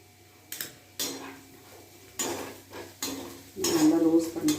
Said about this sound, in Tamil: தேங்காய் துருவி வச்சுருக்கிறேன். இந்த தேங்காவை ரோஸ்ட் பண்ணிக்க போகிறேன்.